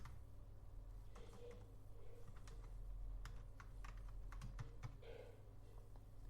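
Steady clatter of key presses on a Logitech K480 wireless keyboard, irregular taps close to the mic over a low background hum, with no talking.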